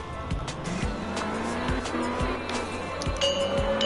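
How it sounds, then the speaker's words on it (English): A car drifts in the video game Absolute Drift Zen Edition, a steady engine drone with continuous tire squeal and repeated thumping impacts, loud and without a break. "I'll drift under this pipe if it kills me"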